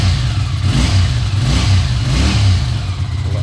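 Honda CX500B motorcycle engine running on choke, close and loud, with rhythmic rises and falls in revs and a throbbing low exhaust note.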